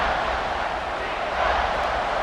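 A stadium crowd in a college football video game, Kansas at Duke, roars as a broad, steady wash of noise filling the whole moment, loud and continuous with no clear breaks.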